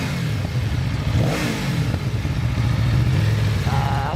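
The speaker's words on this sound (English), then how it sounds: "Give it a rev though, give it a rev." KTM motorcycle engine held at a steady rumbling idle with a slight rev swell, loud and close throughout.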